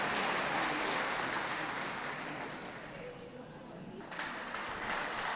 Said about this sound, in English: Can we have a round of applause for those leaving the ring